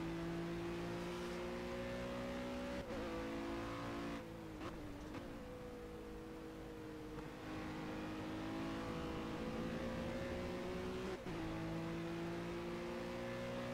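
Ginetta GT4 race car engine in the Project Cars racing game, a steady loud droning rev with shifting pitch as the car runs through a bend, continuous for the whole stretch with no talk.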